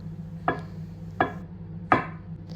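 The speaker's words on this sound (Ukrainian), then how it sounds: "Нарізаємо сосиски кільцями." Three crisp knife strikes on a cutting board slicing sausages into rings, evenly spaced about a second apart, close and clear in a quiet room.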